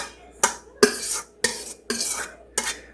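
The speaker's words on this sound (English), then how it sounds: "Let me spread this out and see what I think." A utensil scrapes and taps food across a metal baking sheet in five separate strokes at a moderate pace, close by with no talking.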